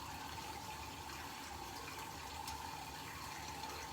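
Running tap water pours steadily while slick shaving soap is rinsed off during a travel shave, a constant close hiss and splash with no break.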